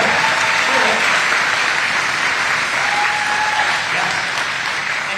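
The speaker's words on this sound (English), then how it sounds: "Give them a round of applause." Steady, dense applause from a large audience at an outdoor GOP barbecue in Michigan, sustained at full strength for the whole stretch.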